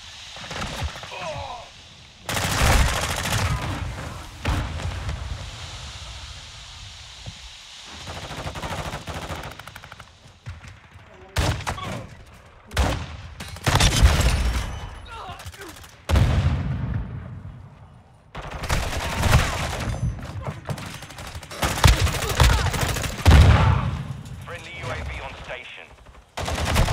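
Gunfire from a weapon in Call of Duty Modern Warfare 2 rattles out in repeated automatic bursts, loud and near, separated by brief quiet gaps.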